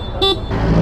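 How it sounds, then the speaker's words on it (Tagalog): One short, loud honk from the stock horn of an ADV160 scooter, a bright beep lasting a fraction of a second over engine idle. "Busina nakastock pa rin."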